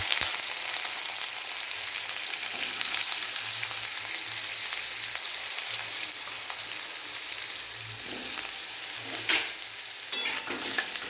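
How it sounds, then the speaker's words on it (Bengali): Cut vegetables dropped into hot oil in a kadai crackle and sizzle steadily for several seconds, a dense close frying hiss with occasional sharper pops and stirring scrapes, no voices. "তেল গরম হয়ে গিয়েছে, এবার এক এক করে সবজিগুলো এর মধ্যে দিয়ে দেব।"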